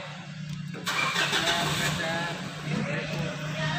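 A Mitsubishi Strada Triton engine cranks and fires up, then settles into a steady idle, heard close, with someone talking over it.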